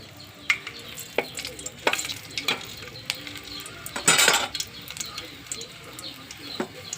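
Cumin, dried red chillies, curry leaves and garlic fry in hot oil for a South Indian tempering, giving a steady sizzle with spoon stirs and metal clinks against the pan, close and fairly loud.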